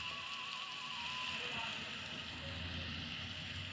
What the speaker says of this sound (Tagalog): Thunder ba? Hindi, guys. Rain.